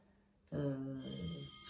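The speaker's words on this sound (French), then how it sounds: "ça c'est la sonnerie du train" A railway crossing bell rings for an approaching train, starting abruptly and then sounding continuously as a steady, close, tonal ringing.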